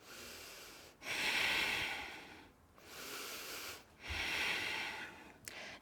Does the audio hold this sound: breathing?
yes